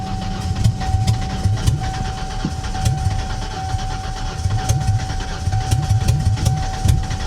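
A 1991 Mercury Cougar's engine cranking repeatedly in uneven, rhythmic bursts as it struggles to start, loud and close throughout.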